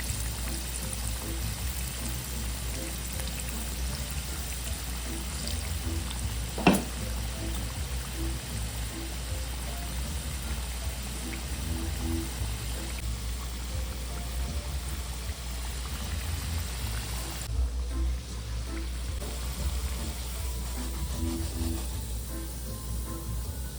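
Potatoes boiling in a pot of water on a stove, a soft steady bubbling and rushing hiss heard close and low, with one brief sharp knock partway through.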